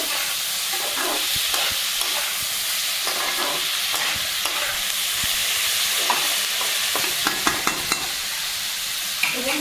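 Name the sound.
stirring and frying fish in a pan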